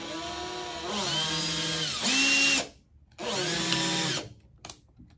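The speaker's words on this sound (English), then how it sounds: "place the drill in forward and slowly pull the trigger" Handheld power drill in forward revs up twice, a loud whining motor with rising and falling pitch, each burst lasting about two seconds, separated by a short pause.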